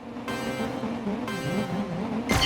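Race car engines in the Sonic Racing: Crossworlds video game drone steadily at the start of a final round, with brief skids and a sharp burst near the end.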